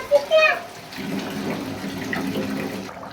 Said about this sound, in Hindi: 1 गिलास पानी डाल के